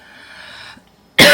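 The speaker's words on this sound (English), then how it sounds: "it's like gurgly, crackly cough" Quiet hiss followed by one sudden, loud, harsh chest cough close up, gurgly and crackly with a rough, rattly texture.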